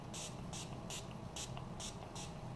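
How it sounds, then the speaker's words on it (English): Six quick bursts of makeup setting spray misting onto a face, a soft hiss in a steady rhythm, close, with no talking. "I'm just going to spray this"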